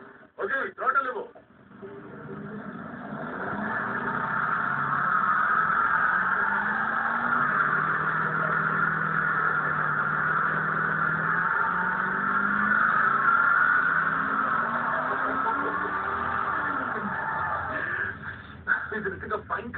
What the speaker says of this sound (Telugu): ఈ వేగవంతమైన 430 హార్స్ పవర్ స్పోర్ట్స్ కార్ ని ఇతను కేవలం చేతులతో ఆపబోతున్నాడు. ఓకే, థ్రాటిల్ ఇవ్వు.